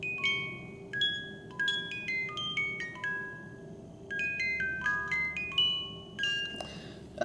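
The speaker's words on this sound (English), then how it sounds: "when you press that button, the music and the automation will work on demand." A Reuge Arnex vintage musical automaton alarm pocket watch plays its comb tune, bright plucked metallic notes in a steady melodic sequence, soft and close with a faint hum beneath and no talking.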